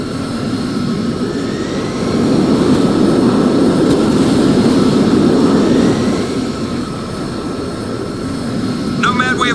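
VTOL aircraft engine in the video game Crysis Remastered: a loud, steady jet roar with a low rumble that swells slightly midway and holds, close and continuous, with no speech over it.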